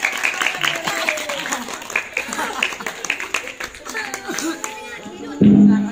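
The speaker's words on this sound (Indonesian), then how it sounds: "Tepuk tangan untuk yang kecil." Scattered clapping from a group at an Islamic boarding school quiz competition breaks out over a busy room, mixed with voices and brief, uneven bursts of applause.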